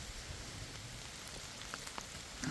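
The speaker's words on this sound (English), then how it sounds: "starting to rain a little bit more and more, off and on still" Light rain pattering on leaves and ground along a forest hiking trail in Missouri, a steady soft hiss with a few sharper drops near the end, fairly quiet and without talk.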